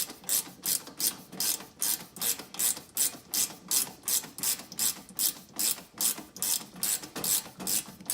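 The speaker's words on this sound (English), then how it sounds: "Switch to a wrench and tighten it that way." A wrench ratchets steadily while tightening long bolts on a Jeep Wrangler JL rear door folding table panel: a close, even run of rapid clicks in regular bursts, about two strokes per second, with no talking.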